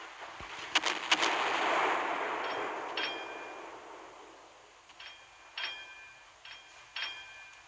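Naval cannon broadside fire in the Naval Creed warship game: a few sharp, booming shots followed by a rolling, rumbling wash, then scattered quieter thuds and ringing metallic impact tones fading in the distance.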